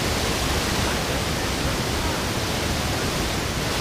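A cartoon shower sprays as a steady, loud hiss of water that runs unbroken from start to finish.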